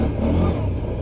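Arctic Cat 1000cc V-twin 4x4 ATV engine revving up in low range, a loud close rumbling roar with some whine, steady throughout a brief burst.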